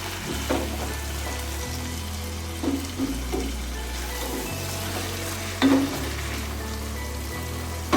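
Chicken pieces for Arabian chicken kabsa sizzle steadily in a hot pan, a continuous close crackle of frying with occasional louder bursts as the pieces are moved or turned.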